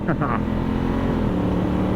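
Exhaust note from a 2018 Honda Africa Twin Adventure Sports motorcycle with DCT gearbox, a steady low idle rumble that stays even and fairly loud throughout, with a brief higher blip near the start.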